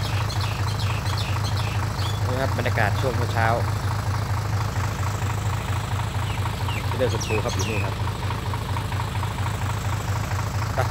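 A tractor engine idles steadily with a low, throbbing chug throughout, while someone talks over it in Thai and birds chirp faintly in the background.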